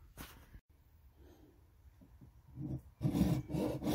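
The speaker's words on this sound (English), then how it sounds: "now we are going to cut part of this off" Part of a scupper fitting on a Bass Raider 10E kayak is cut off with a hand tool. Scraping cutting strokes come close and grow louder and denser near the end, with a short quiet break early on.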